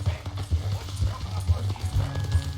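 Horse hooves clip-clopping in Red Dead Redemption 2 as an outlaw rides along tied up on horseback, a steady rhythmic trot heard close and moderately loud beneath low game background sound.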